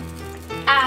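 Sugar goes into hot melted butter for chocolate brownies, starting as a low quiet hum before a bright crackling sizzle jumps up sharply in the last moments, close and steady.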